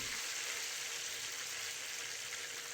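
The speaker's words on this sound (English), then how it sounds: "We can drizzle our hot oil over our meat with a spoon from time to time." Milanesa meat sizzles and fries steadily in hot oil in a pan, a dense, even crackle that runs without a break from start to finish, close and fairly loud, with no voices.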